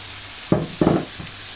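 Chicken hits a hot pan of vegetables being stir-fried on high flame, with three short sizzling, scraping stirs, the last one softer.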